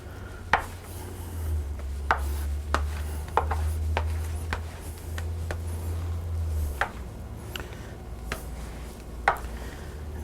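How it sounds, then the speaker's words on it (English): Dough being scraped out of a bowl with a glue spreader used as a scraper while making brioche, giving a series of short, sharp scrapes and taps over a steady low hum. "Scrape up what I can."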